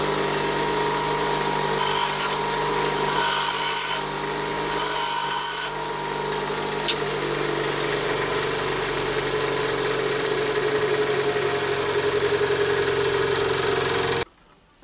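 A bench grinding wheel shapes pointed ends on cut-down Allen cap head bolts, each held in an Allen key. A steady close motor whine runs throughout, with harsher high grinding bursts over the first six seconds, then stops abruptly near the end.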